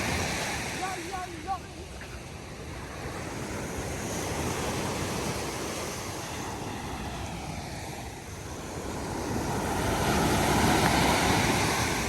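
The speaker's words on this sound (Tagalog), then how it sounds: "Laki kaya ng alon." Large ocean waves roll and crash in a continuous roar under a yellow warning, mixed with gusty wind buffeting the microphone, swelling louder toward the end, with a brief voice heard early on.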